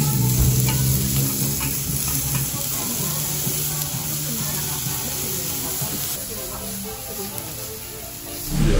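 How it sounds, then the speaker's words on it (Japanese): Beef tongue slices grilling at a Kagoshima restaurant, a steady close sizzle and hiss running throughout with faint clinks, with voices murmuring underneath. "タンから焼きます。"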